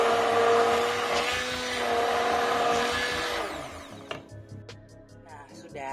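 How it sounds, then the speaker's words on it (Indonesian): An electric hand mixer whirs steadily through a mozzarella cheesecake mixture in a kitchen, loud and continuous before cutting off, followed by a few light clatters and knocks. "Jadi mixer itu fungsinya hanya untuk mengembangkan ya, sampai ngembang sampai kental gitu."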